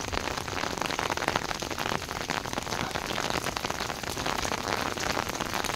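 Steady rain falls over a long row of old village houses (a bakhli) in Uttarakhand, a dense, continuous patter on surfaces that holds even and loud throughout with no voices.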